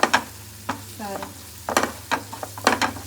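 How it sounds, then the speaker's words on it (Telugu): Tamarind leaf curry with chili powder fries in oil while being stirred, making several short bursts of sizzling and scraping, with brief quiet gaps between the strokes. "జస్ట్ ఒక 2 minutes అలా ఫ్రై చేసుకుంటాం"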